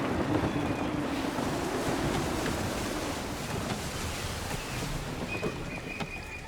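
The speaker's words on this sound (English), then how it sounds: "Wind looks to be shifting. Stay alert, Connor. Gusty winds can be difficult to manage." Ocean waves and gusty wind surround a sailing ship at sea in Assassin's Creed 3, a steady broadband wash of surf and wind noise with no speech.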